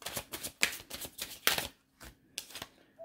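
A tarot deck is shuffled up close: a quick run of crisp riffling bursts in a steady rhythm, followed by a few softer, spaced flicks of the cards, with no speech.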